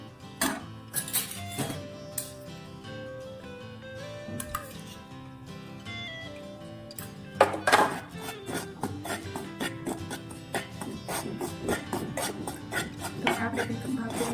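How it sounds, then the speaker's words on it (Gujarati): Wheat flour and ghee being stirred and roasted in a metal pan over low heat for Gujarati lapsi, with steady scraping and clinking of a spoon against the pan, close and moderately loud, with sharper knocks partway through. "એમાં આપણે 2 ચમચી જેટલું ઘી નાખીને ફરી વાર શેકીશું।"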